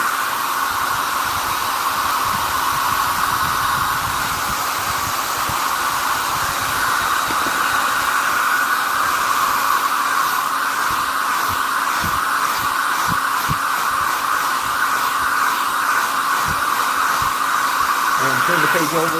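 A hair dryer blows steadily and loudly on a watercolor sketch, a continuous close whir with a faint throbbing undertone that runs unbroken throughout.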